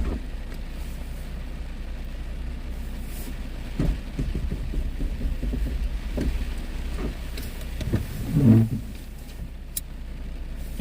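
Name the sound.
road traffic passing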